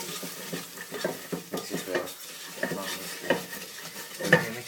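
Chicken curry ingredients stirred together in a pot into a paste, a spoon scraping and clinking against the metal in a steady irregular rhythm with faint sizzling beneath, close and moderately loud.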